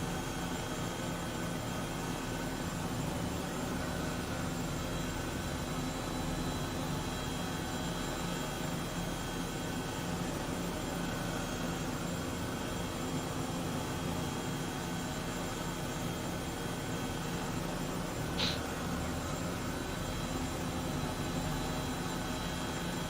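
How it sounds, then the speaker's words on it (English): An Airbus H135 helicopter in Microsoft Flight Simulator lifts off vertically among obstacles, with a constant loud turbine roar and rotor drone that holds steady throughout and no voices. "we're gonna go ahead and do a vertical takeoff here,"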